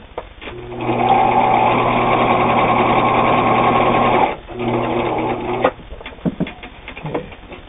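A Viking Husqvarna Optima 150 sewing machine straight-stitching through two layers of denim: a fast, steady whirring run of about three seconds, a short pause, a second burst, then a few scattered clicks and handling noises.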